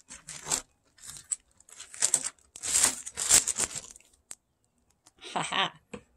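Short bursts of plastic bag crinkling and rustling as bungee cords are dropped in, coming in several close, uneven spurts separated by brief pauses.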